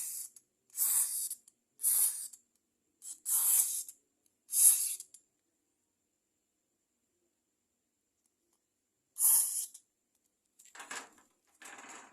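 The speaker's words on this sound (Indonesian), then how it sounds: "Semprotkan cairan secukupnya, dibuat merata pada." DCS carbon cleaner fluid sprayed onto Honda Vario 125 scooter parts in short aerosol hisses, five quick bursts followed by a pause, then several softer sprays. Close and clear, with no talking.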